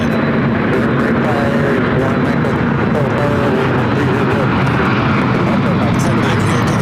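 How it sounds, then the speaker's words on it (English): A Boeing 747-400 freighter takes off on the south side of LAX, a loud, steady broadband roar of jet engines holding throughout, with a voice talking over it. "747-400 freighter taking off there on the south side"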